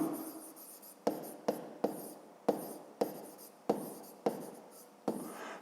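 A pen writes a division on paper in a fifth-grade maths exercise, with a steady scratching of strokes broken by short sharp taps at roughly half-second intervals, close and quiet with no talk.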